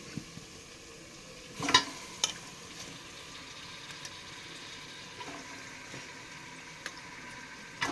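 Chicken pieces fry in a pan for a chicken gravy, giving a quiet, continuous sizzle with a few soft stirring clatters and scrapes scattered through.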